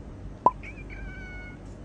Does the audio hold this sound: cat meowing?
yes